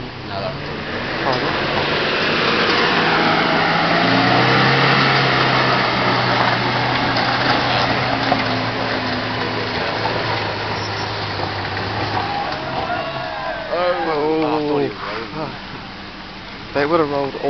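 Off-road 4WD vehicle engine labors close by, a steady low drone that swells and eases as it crawls along, with people talking over parts of it and some rattling toward the end.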